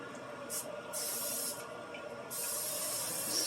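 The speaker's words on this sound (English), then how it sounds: "Spray your pan." Cooking spray is sprayed onto a skillet in short hissing bursts, two brief ones followed by a longer spray, quiet and close over faint kitchen background noise.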